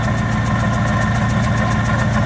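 A car engine idles steadily up close, hot and running with ATF used as radiator coolant, giving an even mechanical hum with a faint rhythmic tick from a rubbing pulley.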